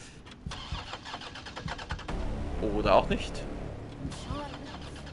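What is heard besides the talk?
car engine starting in the video game Resident Evil 3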